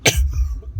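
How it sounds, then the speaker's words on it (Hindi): A single short, sharp cough from a nearby person, a burst right at the start that fades into low room rumble, heard alone in an indoor conversation about someone who is unwell. "इतनी खांसी क्यों हो रही है तुम्हें?"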